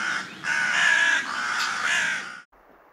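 A crow caws in long, harsh, close calls that run back to back, followed by a fainter, briefer caw, with no talk over them.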